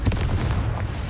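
Explosion from the Confringo spell in Hogwarts Legacy, a short, dense, booming burst with a rumbling low end that fills the whole moment without any talk.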